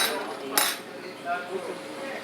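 A utensil stirs sweet and sour pork in a metal pan as sugar is mixed in, giving a sharp clink early on followed by softer scraping and tapping against the pan.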